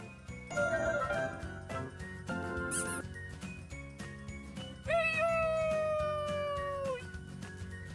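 A cat meows in a drawn-out, wavering cry over light tinkling sounds and a busy background.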